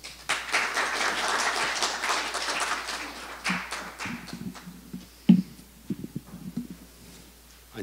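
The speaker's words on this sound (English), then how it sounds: "Please welcome him to the stage with a big round of applause." Applause from a symposium audience welcoming a speaker to the stage: dense clapping at first that thins into scattered individual claps and fades out.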